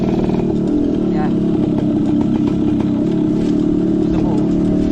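Motorcycles run along a highway with a steady, loud engine drone and rising revs that stay close throughout, while a voice talks over the traffic.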